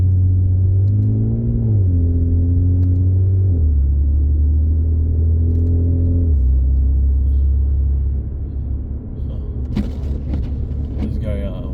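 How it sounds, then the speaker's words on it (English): A car drives along a road, its engine rumbling steadily close by and rising and falling in pitch through several gear changes, with a brighter rattle near the end. No one speaks. "I'll leave you guys to a little bit of driving right here."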